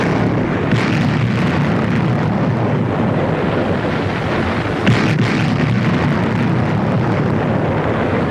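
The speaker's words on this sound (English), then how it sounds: "The British artillery are hitting our positions." Sustained heavy rumbling barrage of British artillery fire striking defensive positions in a WWII North African battle at the Mareth Line, a dense continuous roar with a sharper blast near the middle.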